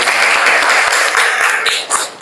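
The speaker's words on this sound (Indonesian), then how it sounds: "Tepuk tangan dulu anak-anak." Children in a classroom clap together in a dense, steady burst of applause that tapers off near the end.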